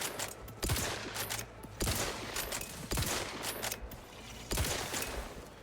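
Gunfire in The Outer Worlds 2 comes as repeated loud, close bursts of rapid shots, roughly one burst per second, with brief gaps between them.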